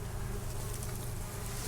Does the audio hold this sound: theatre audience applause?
no